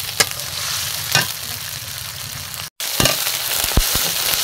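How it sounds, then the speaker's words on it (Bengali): Cumin, chili, onion and garlic pastes frying in hot oil, a constant loud sizzle with several sharp spoon scrapes and clacks, a brief cut near the middle, close and with no talking. "এখানে জিরে বাটা, মরিচ বাটা, পেঁয়াজ বাটা, রসুন বাটা সব মশলাটা আমি ভালো করে কষিয়ে নেব।"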